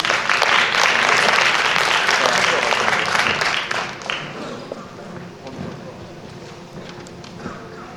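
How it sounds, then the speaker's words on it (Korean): Loud applause from an audience at a student research presentation, dense clapping that gradually thins and fades toward the end. "큰 박수 부탁드리겠습니다."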